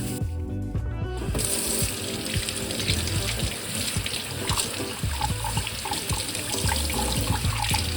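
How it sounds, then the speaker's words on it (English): Running tap water splashes steadily over a freshly scrubbed brass item, a continuous close rush with light clinks and clatter in the sink throughout. "Now I'm just going to give it a good rinse and dry it"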